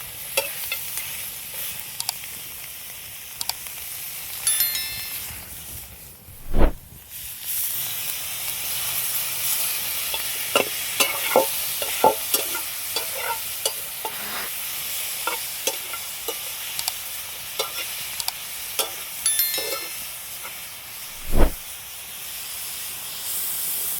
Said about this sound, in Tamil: நம்ம எண்ணெயே சேர்த்தாம சிக்கனை போட்டு நல்லா வதக்க போகிறோம்